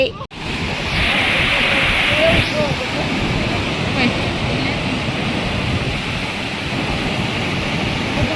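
Floodwater rushes after heavy rain past a broken bridge, a loud continuous roar of churning water mixed with wind buffeting the microphone.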